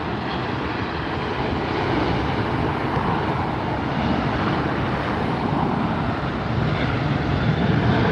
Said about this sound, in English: The Delta departure.